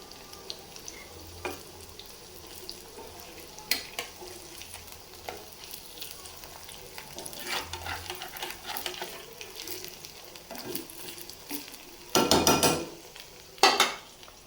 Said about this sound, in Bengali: যে কটা ভাজতে পারি ভাজবো, এত ভাজা যাবে না, অনেক সময় লাগে ভাজতে